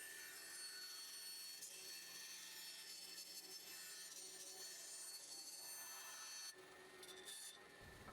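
A bandsaw fitted with a narrow blade cuts curved wood pieces, giving a steady close rasping whine throughout that drops slightly as the cut ends near the finish.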